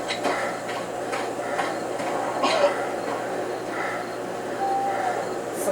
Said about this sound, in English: Someone just coughed. Did you hear that?